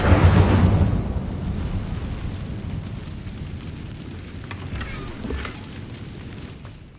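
The Incendio fire spell in Hogwarts Legacy goes off with a loud, whooshing blast. A rushing, crackling roar of flame follows and fades steadily over several seconds.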